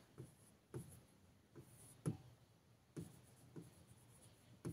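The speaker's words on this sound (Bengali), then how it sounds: "নরের ট্রুথ টেবিল দেখে নিচ্ছি, এখানে লিখে দিচ্ছি।" A pen writes a truth table by hand on paper, giving soft, close scratches in short bursts with brief pauses between strokes, faint and quiet.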